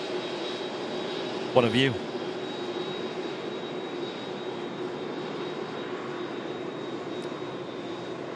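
An Emirates A380 taxis past at Manchester Airport, a steady, distant engine drone with a thin high whine running throughout, and a brief spoken remark over it early on.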